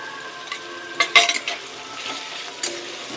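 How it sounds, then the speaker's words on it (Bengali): Ginger spice paste sautéing in a pan for rohu fish kalia, a steady close sizzle broken by a few sharp scraping and stirring clatters of utensil against pan near the middle. "খুব ভালো করে মশলাটা কষিয়ে নেব"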